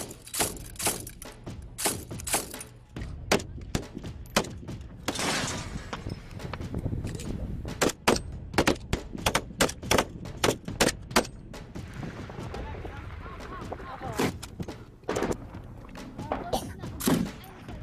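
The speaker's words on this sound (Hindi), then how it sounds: "उनकी यूनिट ने भी मोर्चा संभाला और जवाबी फायरिंग शुरू कर दी। दोनों ओर से जबरदस्त गोलाबारी चलती रही।" Heavy gunfire is exchanged in battle: bursts of automatic fire and sharp single shots crack in rapid irregular clusters, some near and loud, others more distant, with brief lulls between volleys.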